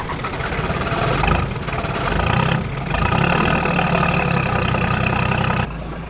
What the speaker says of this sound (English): sounds like a single cylinder putt-putt engine.